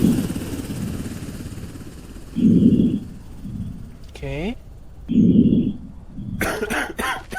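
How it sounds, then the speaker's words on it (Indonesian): An infected character coughing in the zombie border-control game Quarantine Zone, two heavy rough coughs a few seconds apart over a low droning background, with a short game sound effect between them. "Dia batuk-batuk guys"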